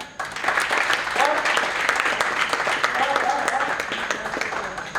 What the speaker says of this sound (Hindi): बहुत बढ़िया, तालियां